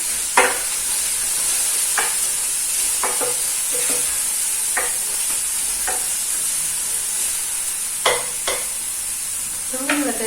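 Diced onions and green peppers fry in a hot pan with a steady sizzle, while a spatula scrapes and stirs them in several short, sharp strokes. No one speaks.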